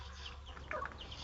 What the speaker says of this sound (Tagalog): 9 na piraso pa yung manok namin